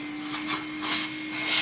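Hilti 75-1-A22 cordless vacuum cleaner running in eco mode, a steady close whir with a constant motor hum and a slightly swelling airflow hiss.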